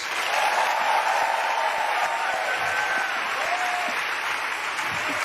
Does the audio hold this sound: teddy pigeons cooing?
no